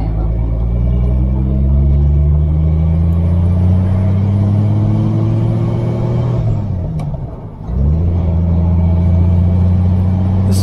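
A 1949 Rover P3 car drives along a quiet road with a steady, loud engine drone and low rumble, pitch rising through a gear, then a brief dip and gear change before the engine note settles again.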